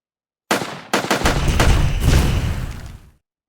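Explosions from barrels blowing up in a video game under development: a sharp blast onset followed by a second heavy boom and a dense, rumbling roar of overlapping detonations that tails off after about three seconds, loud and alone.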